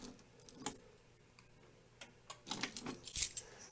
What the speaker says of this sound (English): Ooh, almost dropped my keys.